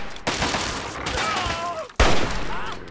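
Fallout 3 gameplay: a burst of rapid gunfire erupts, a sustained loud fusillade that pauses briefly and then resumes with a sharp, close volley.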